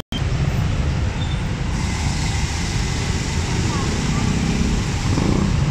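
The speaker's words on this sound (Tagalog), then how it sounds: "Grabe yung traffic." Heavy road traffic makes a dense, continuous roar of engines and tyres throughout, loud and close, with steady rumble and no pauses.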